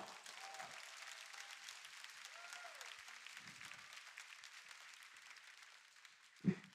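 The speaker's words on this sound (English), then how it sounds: "your hands can still be put together to applaud and give it up for Leonard and Jesse in the house" Faint, distant applause from a concert audience at a live countdown show, a soft continuous patter with a few louder bumps near the end.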